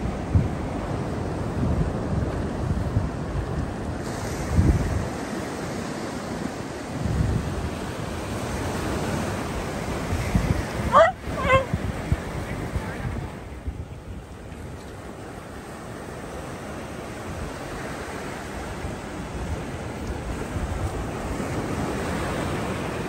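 Ocean surf rolls and breaks along a Palm Coast beach, a steady broad wash of waves with gusty wind buffeting the microphone, continuous and fairly loud with no voices.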